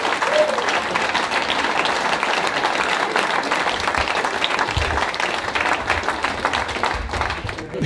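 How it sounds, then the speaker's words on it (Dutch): Sustained applause from an audience at a royal decoration ceremony in the Order of Orange-Nassau, steady dense clapping throughout that fades slightly at the very end. "Graag jullie applaus."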